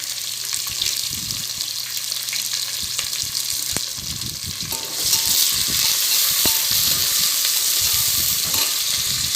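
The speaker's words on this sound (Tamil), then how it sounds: "அது கோல்டன் ப்ரௌன் கலர் வர வரைக்கும் நல்லா அந்த ஆனியன் ஃப்ரை பண்ணுவோம்" Large onion slices frying in oil for home-cooked dum biryani, a steady close sizzle that grows louder and denser partway through, with occasional stirring scrapes and light clinks.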